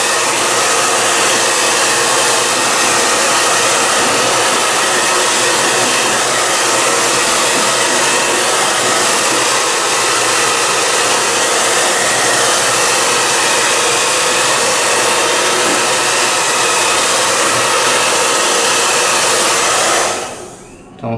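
A hair dryer on a low warm setting, used to dry a layer of paint, blows loud and steady at close range for about twenty seconds before cutting off at the end.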